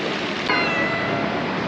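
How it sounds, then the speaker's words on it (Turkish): A street cat in Naples gives a single clear meow partway through, heard close over a steady background hiss of outdoor noise. "sokak kedisi"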